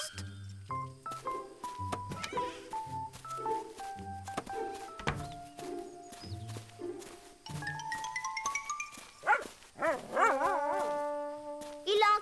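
Small cartoon dog yapping in a series of short, high barks and whimpers, mixed with music and voices in a French animated children's show.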